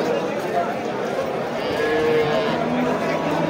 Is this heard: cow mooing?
yes